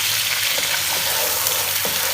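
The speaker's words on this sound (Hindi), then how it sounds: "अब इसको हमने अच्छी तरह से करनी है भुनाई" Dumba lamb meat for karahi sizzles and fries hard in fat in a pan, a steady dense crackling hiss that runs the whole time, with a few faint stirring scrapes.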